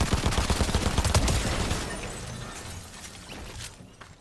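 A pump shotgun fires in a video game: a rapid cluster of sharp, loud blasts in the first couple of seconds, then a fading echoing tail.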